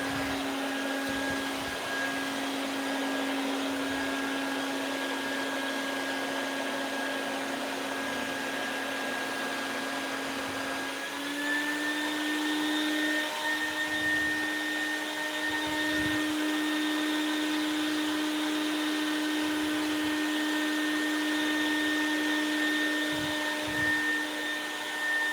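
A vacuum forming machine's vacuum pump runs loud and steady while forming face shells, a continuous droning whine with a slight pitch shift midway and occasional thumps, with no talking.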